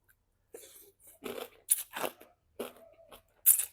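Close, crisp bursts of crunchy chewing while eating spicy papaya salad with pickled field crab, several separate bites and chews with short silent pauses between them, heard without talking.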